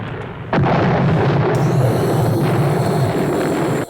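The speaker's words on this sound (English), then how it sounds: "Oh yeah, give me this explosion. Oh yeah, that's a good explosion." A large explosion in the 1979 film Moonraker's space battle bursts in suddenly and loudly, then rolls on as a sustained, dense roar with crackling debris that lasts to the end.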